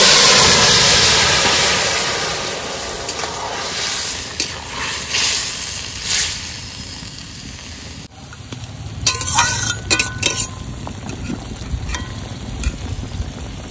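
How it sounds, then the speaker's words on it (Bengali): Crushed garlic and curry sizzle and fry in a clay pot while being stirred, a loud steady hiss with scraping stir strokes that grow busier toward the end, no talk. "থেতো করা রসুন, রসুনটা একটু লাল লাল করে ফোড়ন দিয়ে দিয়েছি।"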